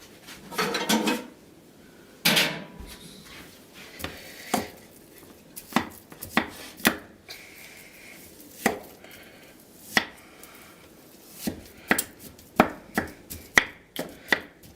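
A spatula scrapes and chops through ground hamburger meat in a pan, giving a string of sharp, irregular knocks and scrapes at close range, some clustered quickly and others spaced apart, with no talking.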